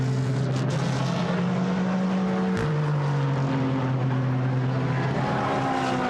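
A GT race car at Silverstone accelerates hard out of the pit lane, its engine note climbing steadily, dropping at a gear change, then rising again, loud and sustained with no voices.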